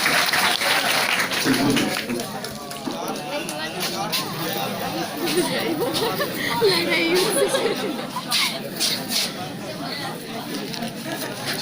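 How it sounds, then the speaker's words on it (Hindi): Students in a chemistry class applaud loudly while chatter and voices mix through the clapping, a busy, sustained room sound. "चलिए बात जोरदार ताली होता है"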